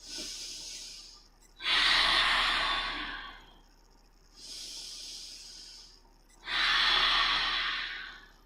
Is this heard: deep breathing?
yes